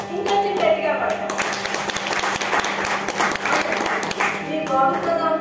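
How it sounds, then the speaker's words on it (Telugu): Sustained audience applause at a Telugu devotional harikatha performance, dense, loud, steady clapping from a crowd that lasts throughout, with a voice speaking over it. "మా కళాకారులందరికీ చప్పట్లు అంత ఆనందాన్ని ఇస్తాయి"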